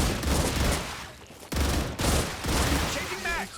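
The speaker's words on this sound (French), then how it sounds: "le bruit des tirs est horrible" Rapid sci-fi gunfire from the video game StarRupture, dense bursts of shots filling the clip with a short break midway, mixed with game effects and a voice speaking over it.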